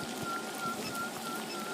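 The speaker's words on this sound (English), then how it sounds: "it's flipping raining like." Rain falls continuously in Wales, a soft, even patter with scattered drops, fairly faint and steady throughout with no voices.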